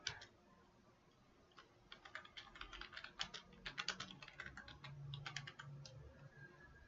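Keys clatter on a computer keyboard during setup of a login screen for a database-backed program, a quiet run of close, uneven typing bursts with brief pauses between words.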